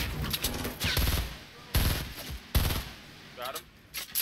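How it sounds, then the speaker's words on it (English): Grenade launcher rounds fired in the Fortnite video game: several sharp, booming blasts in quick succession, with game noise and a voice faintly in between. "I'm shooting nades at him."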